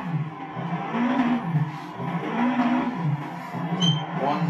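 A car engine in a racing simulator game rises and falls as the throttle is pushed on and lifted off in a rhythmic cycle. The sound is moderately loud and plays alone.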